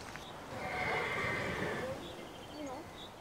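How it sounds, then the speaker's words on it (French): Horses roam free in an open pasture, with a drawn-out neigh followed by softer whinnies and the faint clip-clop of hooves against steady outdoor background noise. "Direction les pâtures et les chevaux en liberté."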